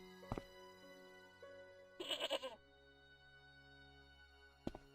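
A goat tied with a rope bleats once in the adventure game Broken Sword: Shadow of the Templars, a short, close, wavering cry between quiet ambient game sounds and a few sharp clicks.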